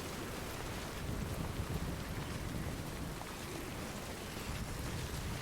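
Heavy rain pours steadily throughout a Death Stranding game scene, a dense, unbroken hiss with no pauses and no speech over it.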